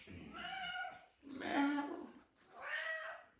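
A cat meows three times in a row, each call long, drawn-out and close, with brief pauses between them.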